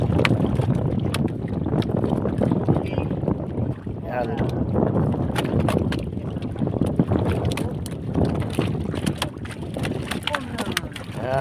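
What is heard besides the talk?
strong amihan season wind at sea, heard from a boat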